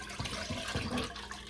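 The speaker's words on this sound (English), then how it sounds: "We're going to pour our chicken stock in." Chicken stock pours into a small preheated pot for broccoli and cheddar soup, a soft, fairly faint splashing trickle lasting about a second and a half with no talk.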